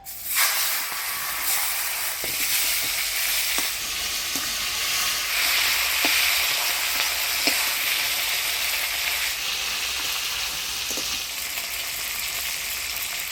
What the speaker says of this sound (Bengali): এবার মাছের মুড়োটা ভাজি নেব